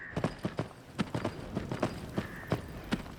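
Horse hooves clip-clop at a steady trot in the Skyrim VR video game, with about a dozen close, crisp hoofbeats in an even rhythm and no other sounds.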